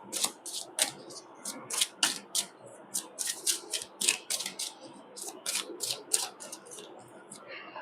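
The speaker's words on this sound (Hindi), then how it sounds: "मैं पहले कार्ड्स निकाल देती हूँ यहाँ पे सारे।" Tarot cards are shuffled and laid down one by one, a quick irregular series of crisp snaps and flicks close by, with softer handling sounds between them.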